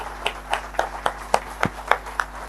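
An audience claps in quick, evenly spaced sharp bursts, about nine crisp claps in steady rhythm, close and fairly loud with no talk over them.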